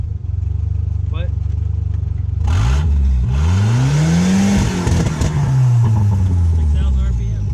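A miniature turbocharged Hemi engine revs hard toward 6,000 RPM, loud and close, its pitch sweeping up and down in repeated throttle blips over a steady low idle rumble.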